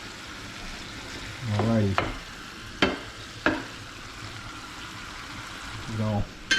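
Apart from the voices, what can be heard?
noodles cooking and being stirred in a pan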